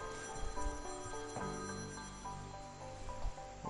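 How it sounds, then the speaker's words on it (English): A mobile phone rings with a steady, repeating electronic ringtone that carries on through the whole stretch, heard indoors over the faint sound of a golf video game on PS4. "That's my phone ringing."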